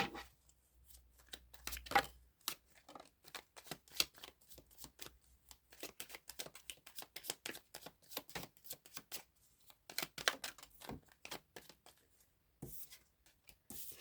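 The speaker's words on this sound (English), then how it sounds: "Cards are certainly flying out." Tarot cards being shuffled produce rapid bursts of riffling and slapping, close and crisp, in irregular clusters separated by short pauses over about fourteen seconds.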